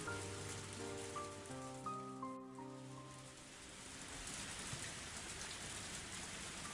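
Heavy rain in the video game Higurashi falls as a steady, dense hiss that continues throughout, with a few soft piano-like tones ringing over it in the first half.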